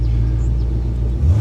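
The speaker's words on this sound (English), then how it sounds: "So I'm gonna start up the engine and do the same thing I did before." A car's engine and exhaust idle close to the microphones, a loud, steady low rumble with a deep throb that swells slightly toward the end.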